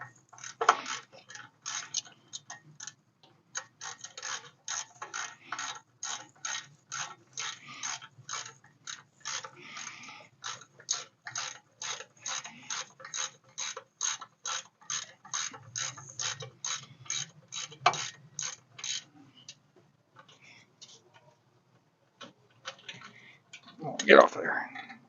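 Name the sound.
tightening pins with a 3/8 Allen wrench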